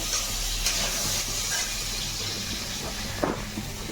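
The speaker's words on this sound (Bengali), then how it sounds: "এদিকে আমার পটল ভাজাটা হচ্ছে" Pointed gourd (potol) frying in a pan gives a steady, soft hiss and sizzle throughout, with a few faint clinks near the end and no talking.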